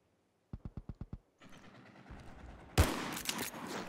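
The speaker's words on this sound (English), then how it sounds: "That's some suppressing fire there." Suppressing gunfire in the video game Mud and Blood: a quick burst of six sharp, evenly spaced shots, then a rumbling lull and a loud blast followed by continued noisy fire.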